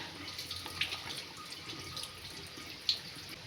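Water is poured into a cooking pot for Maggi noodles, a faint, steady trickle and splash with a few small drips and clinks, quiet and close in a home kitchen.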